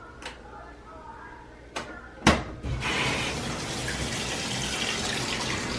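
Tap water runs steadily into a sink for rinsing black denim jeans, a continuous hissing splash that starts after a few knocks and clatters and continues to the end.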